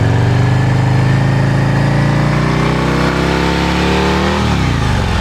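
A motorcycle engine revs steadily and loudly up close while the clutch is slipped during advanced slow-speed riding practice, holding a sustained, even pitch before the tone drops near the end.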